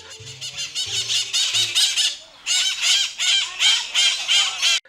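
Sun conure parrot squawking close and loud, a rapid series of harsh, shrill screeches in repeated bursts with a brief pause midway; no talk.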